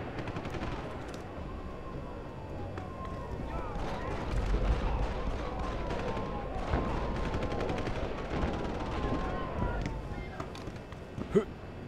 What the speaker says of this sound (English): I think it might be time to start shooting.